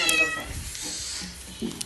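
A single short cat meow close by, clear and fairly loud, followed by a brief quiet rustle.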